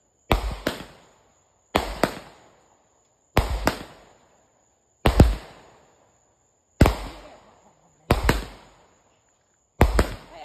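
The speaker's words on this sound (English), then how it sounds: "We just doing fireworks after fireworks." Fourth of July fireworks explode outdoors in a steady series of sharp booming bangs, often paired as double reports, each trailing off in a rumbling echo, with steady pauses between them.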